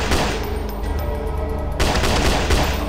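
Rapid gunfire from a weapon in a zombie video game, loud dense bursts repeating in quick succession with a brief break partway through, no talk over it.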